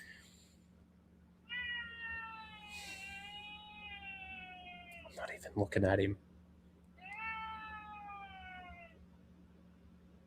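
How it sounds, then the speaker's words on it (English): A house cat waiting to be fed lets out a few drawn-out, whiny meows at close range, with a short burst of clattering between them and a person speaking briefly. "He says meow like an Aussie."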